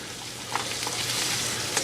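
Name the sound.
onions stir frying in hot oil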